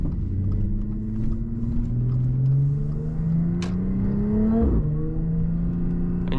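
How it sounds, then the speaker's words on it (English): Car interior on a short foggy-morning commute, with a steady engine drone and road rumble throughout, rising in pitch as the car accelerates and shifting once midway, with no talk. "we're doing a short POV drive on my way to work"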